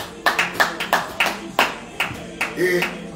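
Congregation hand-clapping during a Thursday morning prayer service, steady rhythmic claps about every third of a second, close and moderately loud, with voices faintly underneath.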